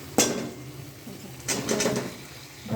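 Fried potatoes are tipped into a pan of oil with chilli, turmeric and salt, giving a couple of close metallic clanks and scrapes against the pan over a soft background.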